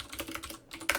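Quick, close clacking on a computer keyboard whose keys have had the cotton padding removed from beneath them, an uneven run of sharp taps with a brief pause near the end.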